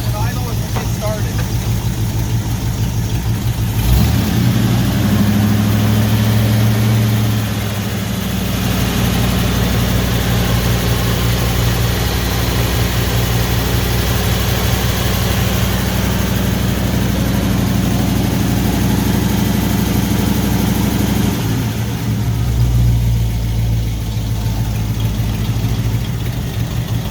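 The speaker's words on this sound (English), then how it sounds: "I'll rev it up just a little bit and then let it idle" A heavy 1978 Ford F-150 truck engine idles steadily with a deep low rumble, briefly revving up twice before settling back to a constant idle.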